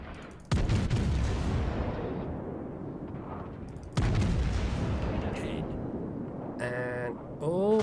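Heavy naval cannon fire from the battleship HMS Lion in a naval battle game: two loud, booming salvos a few seconds apart, each rolling off slowly, followed by faint warbling game tones and someone talking.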